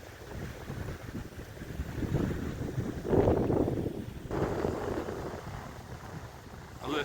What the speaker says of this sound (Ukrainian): сильний дуже вітер